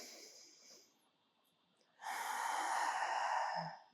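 A deep, drawn-out breath during a fascia release exercise for the obliques, ribs and diaphragm: a faint airy exhale first, then a loud, close, rushing breath lasting over a second before it fades.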